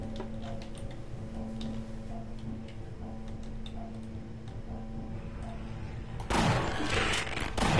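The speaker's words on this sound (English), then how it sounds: "I really like using the shotgun." A shotgun firing in Half-Life, a sudden loud blast near the end that follows a stretch of quiet ticking and humming game sounds.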